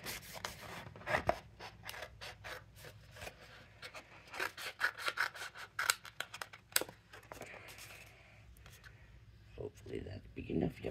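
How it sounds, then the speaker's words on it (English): Scissors cutting out pieces of colored cardstock, a steady series of close, crisp snips and paper rustling, heard under someone talking. "I'm just going to cut out some pieces to cut those out with."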